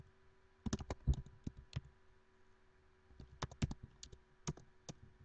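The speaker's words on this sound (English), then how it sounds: "that was pretty fast typing" Quick bursts of typing on a computer keyboard, two clusters of sharp close key clicks separated by a short pause, in a quiet room.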